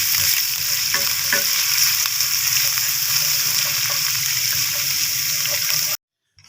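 Cumin seeds with garlic and ginger paste frying in hot oil, a loud continuous sizzle with light stirring noises, cutting off abruptly near the end.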